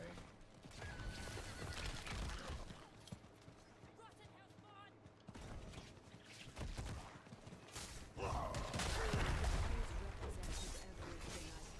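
Horse neighing and hooves in Diablo 4, the player's mount, with game combat noises and a voice talking over most of it, louder busier action near the end.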